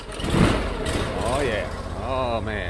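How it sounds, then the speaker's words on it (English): A fuel-injected pressure washer engine cranks and fires up, its loud low rumble steadying into a running drone, close by, while someone speaks excitedly over it. "Let's see how this thing cranks up. This thing's a beast."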